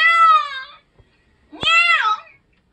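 Two drawn-out cat meows, close and clear, separated by a short pause with a faint tap between them.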